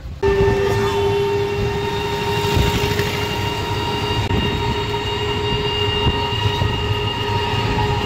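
A train at a railway station rumbles loudly and continuously nearby, with a sustained high metallic squeal or horn-like tone riding over the heavy clatter of wheels and cars.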